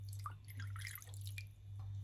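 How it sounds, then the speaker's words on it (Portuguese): Water being poured into a bowl, a quick run of small drips and splashes, close and fairly quiet over a steady low hum, with no talking. "tenho aqui uma tigela onde vou colocar"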